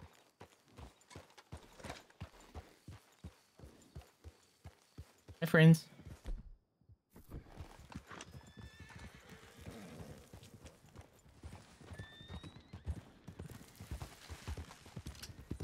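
A horse in Red Dead Redemption 2 trots with a regular clip-clop, lets out one loud whinny midway, then keeps moving with busier hoof thuds while a person talks briefly.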